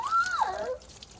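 Water gurgles and swirls as a cold plunge tub drains, one short close sucking sweep that drops in pitch and then fades.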